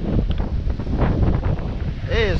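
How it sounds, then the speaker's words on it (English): Strong outdoor wind buffets the microphone in low rumbling gusts while fishing near water, with a voice and a brief whistle-like tone near the end. "It is super windy, y'all."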